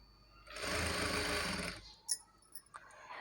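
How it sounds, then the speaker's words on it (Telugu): A sewing machine runs in one close, steady burst for about a second and a half while top-stitching over the black part of a work blouse, followed by a few small clicks and taps as it stops. "ఆ బ్లాక్ పార్ట్ పైనుండి ఒక స్టిచ్ అయితే వేసేస్తున్నాను"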